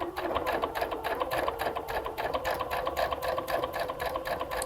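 Sewing machine stitching down a star appliqué on fabric for a pillow, its needle running in a fast, steady rhythmic chatter at a moderate, even level with no voices.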